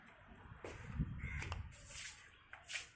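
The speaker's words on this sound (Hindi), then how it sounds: "कौआ कौआ" Crows caw several times outdoors near a balcony with trees, faint and somewhat distant over breezy background noise.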